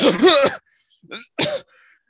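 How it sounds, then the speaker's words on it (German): A person coughs and hacks in a short harsh burst, then gives two more separate rasping coughs, close up and loud. "anfangen zu husten"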